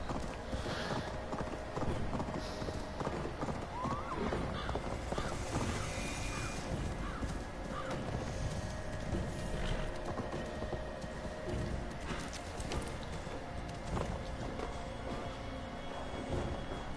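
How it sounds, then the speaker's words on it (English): Horse hooves clip-clopping in a steady rhythm while riding in Assassin's Creed Valhalla, a continuous gait heard over a dense ambient game soundscape. "So glad I have a horse."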